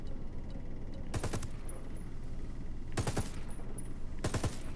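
Three separate bursts of rapid gunshots in the tactical shooter Ghost Recon Wildlands, each a short, sharp volley spaced a second or two apart over a quiet ambient background.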